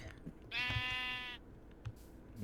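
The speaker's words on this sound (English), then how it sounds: "Little sheep, little sheep" A sheep in the Minecraft modpack All the Mods 9 lets out a single drawn-out, wavering bleat, fairly faint against a quiet game background.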